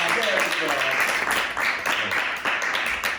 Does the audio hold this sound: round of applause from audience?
yes